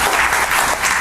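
Quiz show audience giving loud, dense applause for a school student contestant, a continuous burst of clapping close up that lasts about a second.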